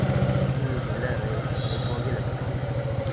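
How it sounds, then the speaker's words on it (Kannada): A motor vehicle runs along a road near the Netravati River at Dharmasthala, its steady engine drone with a rhythmic low throb loud and close throughout, while a voice talks over it. "ಅಲ್ಲ ಗಾಡಿ ಬರ್ತಿದೆ."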